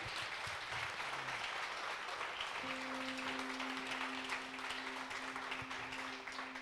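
Steady applause from a church congregation, a continuous wash of clapping with a faint sustained tone entering partway through.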